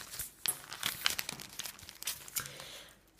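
A paper bag is crinkled and handled while assembling a junk journal. The quiet, dense rustling and crackling has scattered sharper crunches throughout, with no talking.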